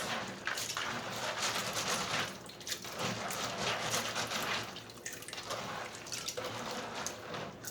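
Dried black-eyed peas being rinsed in warm water, with a steady close splashing and sloshing that continues throughout, no talking.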